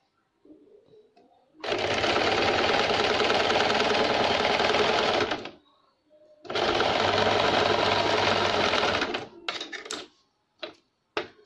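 An electric sewing machine stitches pink piping for a blouse back neck design, running in two long, loud, steady bursts followed by several short stops and starts.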